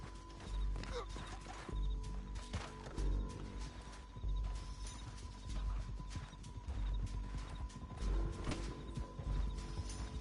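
Horses' hooves clip-clopping in the video game Red Dead Redemption 2, a steady rhythmic trot of several horses heard fairly close, with an occasional whinny and faint background commotion.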